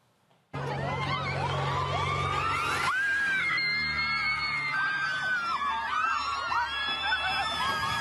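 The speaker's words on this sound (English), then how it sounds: "all them people out there yelling and hollering and screaming" A crowd at a gender reveal in Mexico screams and yells loudly and without pause, with shrill rising and falling cries that sound almost like sirens, mixed with general commotion.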